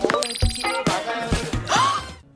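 Ringing phone notification tones, several bright chiming electronic beeps in quick succession, fairly loud and close over a busy background of music or effects.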